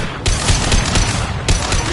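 Dense, continuous automatic gunfire from a Mass Effect 2 firefight roars loud and close, with two sharp bursts standing out at the start and near the end.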